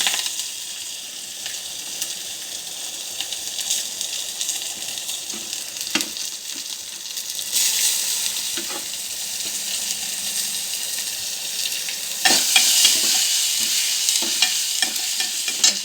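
Curry leaves and tomatoes fry and sizzle steadily in a hot pan, a continuous crackling hiss with occasional stirring clatter, growing louder and busier toward the end.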